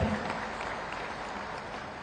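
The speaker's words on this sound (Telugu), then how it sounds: "ఇలా నమ్మిన వాళ్ళు గట్టిగా చప్పట్లు కొట్టండి" Audience at a BRS political meeting in Hastinapur applauding, a dense, fairly distant wash of clapping that holds steady for about two seconds.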